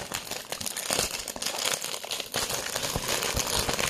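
Perfume packaging is unboxed up close: loud, continuous crinkling and rustling of paper and cardboard, with quick scrapes and crackles throughout.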